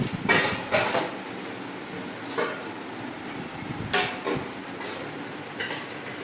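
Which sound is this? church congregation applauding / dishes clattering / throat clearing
dishes clattering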